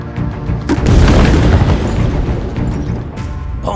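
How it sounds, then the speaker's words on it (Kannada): A bomb blast in a Kannada-dubbed action film: a deep, loud boom swells into a sustained rumbling roar that rolls on for several seconds, with scattered debris crackles and no voices. "ಬಾಂಬ್ ಬ್ಲಾಸ್ಟ್ ಆಗುತ್ತೆ."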